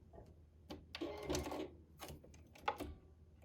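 A sewing machine begins sewing binding onto the edge of a quilt, heard faintly in short, irregular bursts of stitching with pauses between them.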